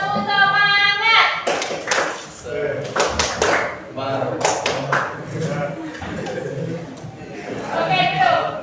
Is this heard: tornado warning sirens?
no